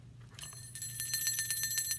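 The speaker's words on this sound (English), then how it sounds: "Rabbit was ringing a bell." A small metallic bell rings repeatedly in quick, rhythmic strikes, bright and close, after a brief quiet start.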